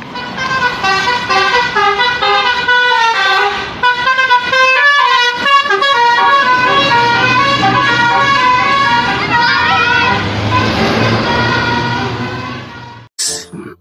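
A tour bus blares a loud, melodic multi-tone horn that plays a rapid repeating tune for about thirteen seconds, close by, with a deep engine rumble underneath as it passes before the horn cuts off.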